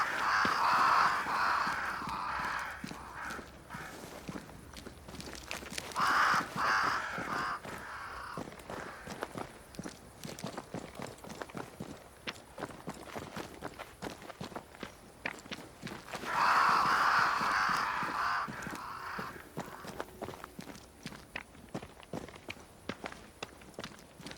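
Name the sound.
crows cawing near a great tree in Banishers: Ghosts of New Eden video game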